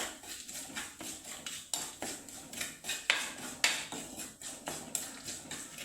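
Spices are stirred and roasted in a hot pan for rasam, giving a steady, rhythmic run of metal scrapes and clinks about twice a second, fairly quiet and with no talking.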